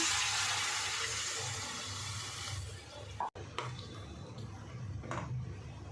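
Water pours steadily into a cooking pot of pea and potato gravy for a few seconds, then a brief clunk, followed by quieter splashing and light clinks nearby.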